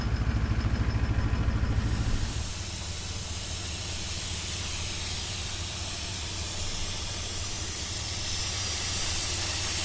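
Steady, loud hiss of air escaping from a 4WD's tyres as they are let down for a clay and sand track, continuous and close after an idling engine rumble fades at the start.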